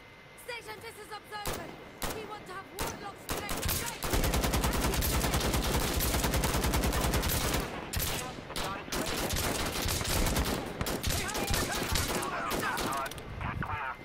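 Rapid, sustained gunfire from the tactical shooter game Insurgency: Sandstorm, dense bursts and overlapping shots going on almost nonstop, loud and close, with brief voices under the shooting.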